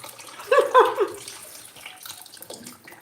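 Running water rinsing freshly uprooted produce covered in sand and soil, a close splashing burst under a tap for about a second that then fades into quieter trickling and handling.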